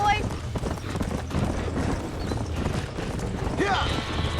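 Horses from Red Dead Redemption gallop near a burning barn, with hooves clip-clopping steadily and a brief whinny rising over the hoofbeats. Voices talk underneath throughout.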